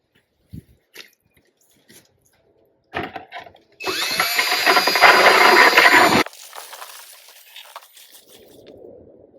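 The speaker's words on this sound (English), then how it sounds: "we're going to pour the cement slowly into this bucket, mixing it along the way" Cement being poured and mixed in a bucket while making concrete square tiles, a loud continuous gritty scraping and stirring for a few seconds, framed by scattered knocks and a softer mixing texture afterward.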